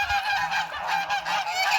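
Crested geese honk loudly and repeatedly nearby, several overlapping nasal calls in a busy, continuous chorus.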